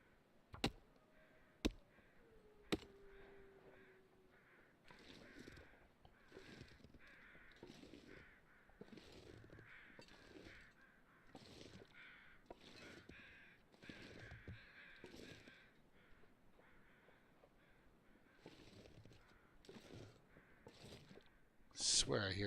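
Crows cawing in the survival video game The Long Dark, a series of rough calls repeating through the clip at moderate level over a steady background.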